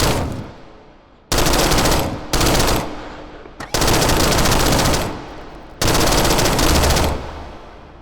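Gunfire in the VR shooting game H3VR, loud rapid automatic bursts fired in four or five long strings separated by brief pauses, with no talk.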